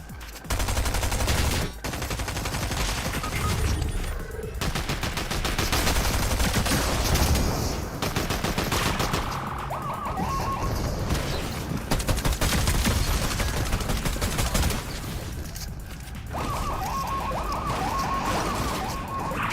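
Rapid video game gunfire with repeated sharp shots and crashes, dense and loud throughout with brief gaps, including pistol fire.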